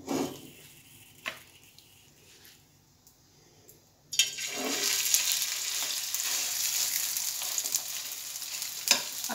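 Chicken pieces hit hot oil in a pan for an egg chicken burger, the quiet start with a few stirring clinks giving way to a sudden, loud, sustained sizzle that continues with occasional scrapes.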